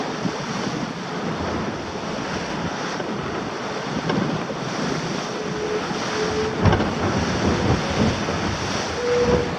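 Strong wind buffets the microphone over the steady rush of giant ocean waves aboard a Mini Transat racing yacht sailing downwind, a loud continuous roar with occasional thumps.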